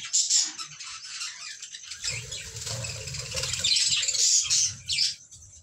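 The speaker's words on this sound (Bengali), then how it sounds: "চলুন প্রথমে বাইরের পাখিগুলো দেখাই, তারপরে কেজের পাখিগুলো আমি আপনাদেরকে দেখাবো।" Budgerigars kept outdoors chirp and chatter in quick, high, overlapping bursts, joined midway by soft fluttering and rustling, fairly close and with no voices.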